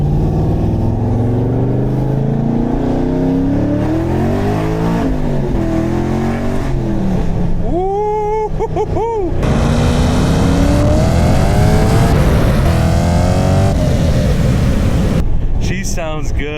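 A Camaro Z28 with a stock exhaust and an exhaust leak revs hard and repeatedly, its loud engine pitch climbing and falling in sweeps, heard close up with a brief voice and some talk.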